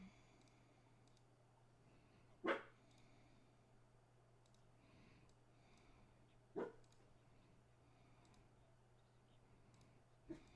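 A dog barks a few times in the distance, spaced seconds apart, over a low steady hum and quiet background.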